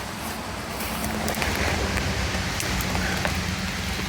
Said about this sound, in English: It's absolutely chucking it down.